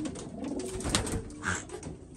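Iraqi homing pigeons coo softly and repeatedly in a loft, their low throaty calls layered over a steady background murmur of other birds.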